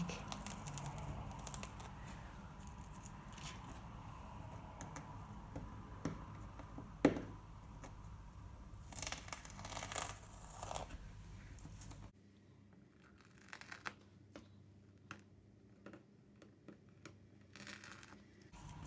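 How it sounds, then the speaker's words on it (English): Tape peels off a dried acrylic pour painting in a run of sticky crackling rips and tearing bursts, close and fairly quiet, stopping partway through before a few softer handling sounds. "it's time to take these tapes off"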